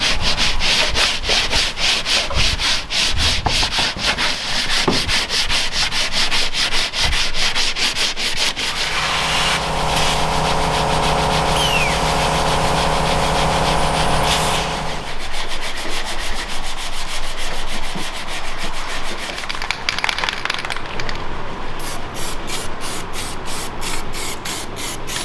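Sanding on an Audi S4 car body during dent repair, a steady loud abrasive rub with rapid rhythmic scratching strokes, broken midway by a tonal machine whine, then more scraping.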